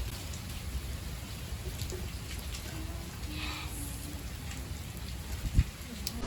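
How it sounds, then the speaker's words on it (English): Rain falls steadily as a broad, even hiss with low rumbling background in an outdoor setting, with a single sharp knock near the end. "The rain hadn't let up. I mean, it's gotten worse."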